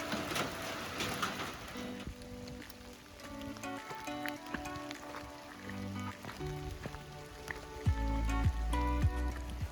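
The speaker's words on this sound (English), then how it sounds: "We have our first rainy day on the trail" Rain falling along the Appalachian Trail between Dick's Creek Gap and the Nantahala Outdoor Center, a continuous hiss of drops pattering on nearby surfaces, with scattered heavier drips and a few low thuds.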